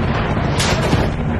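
Battlefield 1 World War I trench combat: a brief dense rattle of machine gun fire with booming shots, loud and close, no talking.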